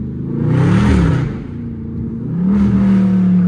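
A catless exhaust on a Chrysler 300 SRT revs up twice with a deep, loud rumble, dropping briefly between the two pulls.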